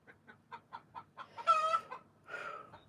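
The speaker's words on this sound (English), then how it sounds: "No, chicken. Get out." A chicken gives a run of short, evenly spaced clucks close up, then two longer squawking calls.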